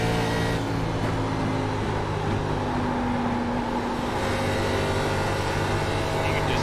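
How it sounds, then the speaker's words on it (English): Race car engine at Kentucky Speedway droning steadily at high revs with a sustained tonal whine, heard continuously at moderate distance beneath broadcast commentary. "so listen to the engine sound of Roberto Ramirez here."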